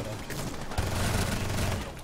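Gunfire in the video game Rainbow Six Siege comes as rapid, dense bursts of shots, loud and continuous for about two seconds, with brief game noise between volleys.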